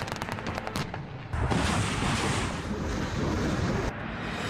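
Bombardment and gunfire in war-torn Mariupol: dense bursts of rapid shots and heavy blasts roll together into a loud, continuous barrage, with brief dips before the firing surges again.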